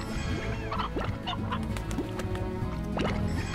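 In Slime Rancher, a chicken clucks in short, quick bursts against a busy, loud backdrop of game music and ambience, with no talking.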